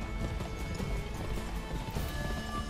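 Horse hooves clip-clop steadily in the Western video game GUN, a continuous close rhythmic trotting with occasional faint whinny-like tones over a busy game soundscape.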